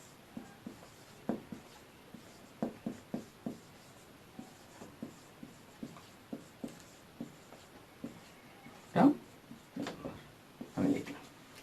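Chalk or marker taps and short strokes on a board during a chemistry lecture on quantum numbers, a quiet run of brief scratches with a couple of louder knocks near the end.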